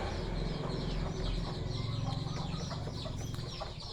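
Chickens raised village-style as fighting cocks cluck steadily while being given water, a dense, close chorus of overlapping clucks that runs throughout with no talking.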